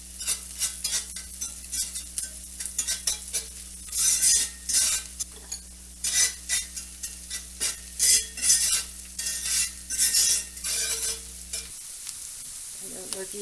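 Onions fry in a single layer in a pan under a steady low sizzle, while a utensil stirs and scrapes in repeated rhythmic bursts that stop abruptly near the end.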